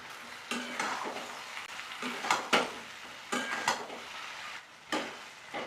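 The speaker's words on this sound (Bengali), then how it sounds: "এবার এখানে কিছুটা কাশ্মীরি লাল লঙ্কার গুঁড়ো মিশিয়ে নিচ্ছি" Kashmiri red chili powder being stirred into a jujube pickle in a pot, with soft irregular scraping and clinking strokes, fairly faint and close, repeating every second or so with no talking.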